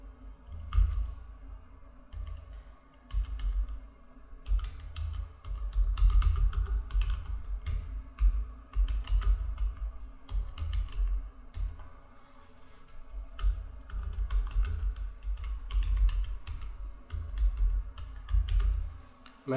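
A computer keyboard clatters with steady, close typing as a description is entered into an income tax return form, keys tapping in continuous quick runs over a low background hum, with no speech.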